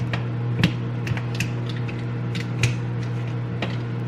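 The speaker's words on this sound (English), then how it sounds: "Then I take these clamps and I put them on the top." Clamps are fitted onto a lure mold, with sharp metallic clicks and creaks spaced irregularly over a steady low hum, close and fairly loud.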